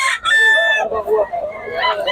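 Roosters crowing at a fowl market in Bocaue, Bulacan; a loud nearby crow rings out early, overlapping crows and clucks follow, and a few voices murmur in the background.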